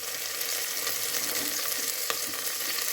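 Onion, grated ginger and green chili sizzle in a hot pan in a steady, bright frying hiss, with a few faint clicks and stirring touches rising above the continuous crackle.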